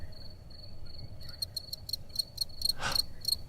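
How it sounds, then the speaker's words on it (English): A cricket chirps by rubbing its wings together, giving a string of about ten short, evenly spaced high-pitched pulses close by, with one brief louder rustle near the end. "Watch this cricket"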